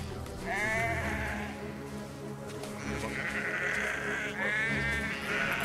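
Sheep bleating in the video game Valiant Hearts, several wavering bleats spaced a couple of seconds apart over a low ambient hum.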